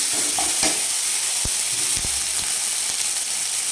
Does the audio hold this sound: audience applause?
no